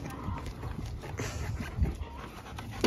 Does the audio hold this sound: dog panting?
yes